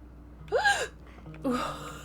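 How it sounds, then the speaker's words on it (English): Two loud, sharp gasps from a person, each a quick intake of breath lasting a fraction of a second, separated by a short pause, close and clear over a quiet background. "Sorry, I gasped so loud that was terrifying."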